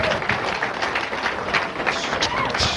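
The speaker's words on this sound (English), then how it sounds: "Let's have a big laughs round of applause for Kenny Aubrey right here." Comedy club audience in Sacramento applauding a stand-up comedian, a dense, steady wash of many hands clapping with crowd noise and faint voices mixed in, sustained at even loudness throughout.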